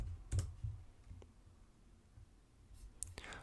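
Soft, sparse keyboard clicks as a command is typed, a few quick keystroke bursts near the start and end with quiet pauses between, close and faint.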